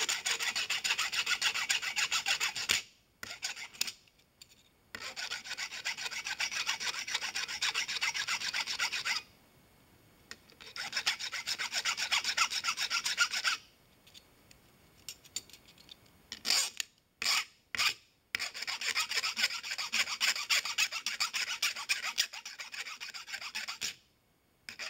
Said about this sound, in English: File the ends of the pin smooth.